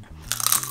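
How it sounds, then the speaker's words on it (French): Crispy potato chips crunched between the teeth, a short burst of crackly bites right up close, loud and dry against an otherwise quiet background, with no talking. "Vous entendez? Elles sont hyper croustillantes."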